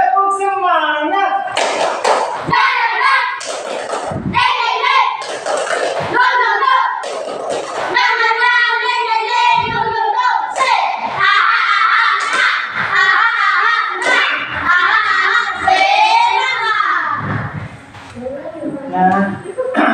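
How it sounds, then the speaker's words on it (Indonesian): Children in a primary school Islamic religious class chant a rhythmic spirit cheer together, with quick claps and hand taps mixed into their loud, steady group voices throughout. "Tepuk semangat."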